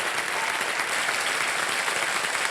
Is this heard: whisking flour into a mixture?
no